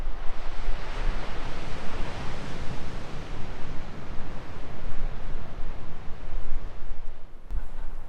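Continuous roar of ocean surf with waves breaking in a constant wash near Cape Disappointment Lighthouse, mixed with some wind rumble and no voices.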